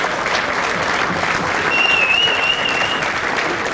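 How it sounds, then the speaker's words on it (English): Sustained applause fills a room at a football league medal presentation night, broad and even clapping from a sizeable crowd, fairly loud, with a thin high whistle or tone cutting through briefly near the middle. "that deserves a round of applause"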